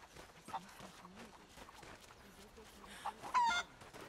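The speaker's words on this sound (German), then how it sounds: "Da ist noch ein Huhn." A chicken clucks softly in the Rise of the Tomb Raider video game, several short faint clucks scattered under a quiet game soundscape, with a brief louder squawk near the end.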